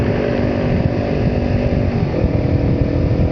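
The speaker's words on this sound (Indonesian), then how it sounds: "knalpot saya ini lumayan adem" A motorcycle fitted with a locally made aftermarket replica exhaust idles steadily at night, a constant close throaty rumble with no revving and no talking.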